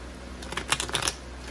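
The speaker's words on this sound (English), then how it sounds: "One more shuffle." A brief riffle of tarot cards being shuffled, a quick burst of soft flapping clicks in a quiet room.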